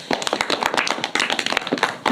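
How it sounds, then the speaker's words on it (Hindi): Children applauding together at a free village coaching class near Ayodhya: a dense, close burst of quick, uneven hand claps that continues briefly without talk. "सब लोग ताली बजाओ"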